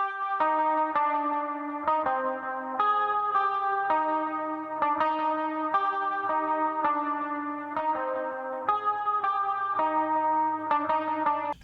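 Two layered electric guitars with effects, panned left and right in a post-punk style beat, playing a steady repeating pattern of bright picked notes with echo and chorus shimmer, loud and continuous throughout.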